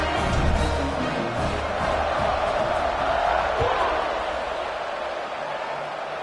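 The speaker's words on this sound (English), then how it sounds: "this crowd is buzzing after that last score" Stadium crowd in the NCAA 26 college football video game buzzing after a score, a broad, continuous roar of many voices that swells early and slowly eases, with occasional louder shouts rising from the mass.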